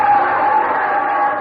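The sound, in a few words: crowd cheering at a baseball game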